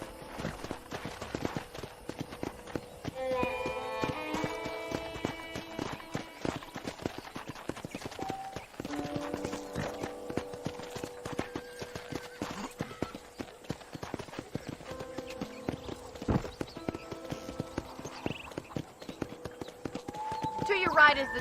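Horse hooves clip-clopping in the Western game Red Dead Redemption, a steady rhythmic walking clatter running throughout beneath talking voices and background music.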